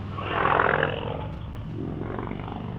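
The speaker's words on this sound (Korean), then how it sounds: "확실히 남자의 심금을 울리는 건, 저 할리 소리, 진짜." A Harley-Davidson motorcycle's exhaust roars on a touring ride near a beach, a loud, deep rumble that swells for a moment and then settles into a steady growl, with no talking over it.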